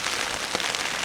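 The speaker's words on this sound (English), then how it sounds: "this rain's come again" Steady rain falls in the Lake District in winter, a dense continuous hiss of drops pattering on surfaces close by, with no voices.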